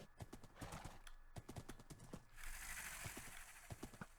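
Horse hooves clip-clopping in a video game, quick irregular close hoofbeats with a whinny partway through, faint overall.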